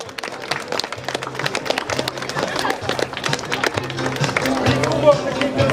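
A crowd applauds the race winner at the award ceremony of the 2012 Uzhhorod ten-kilometre run, sustained outdoor clapping that grows slightly louder while an amplified announcer's voice talks over it.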